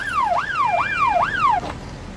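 An ambulance siren wails in a rising-and-falling cycle, three sweeps, loud and fairly close, then cuts off, in a 1997 TV police drama.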